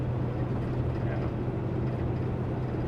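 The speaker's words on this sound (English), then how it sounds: "The buzzing's the truck complaining about the narrow lanes" Steady low droning buzz from a truck cab while driving on narrow lanes, a constant close hum under the road rumble with no breaks.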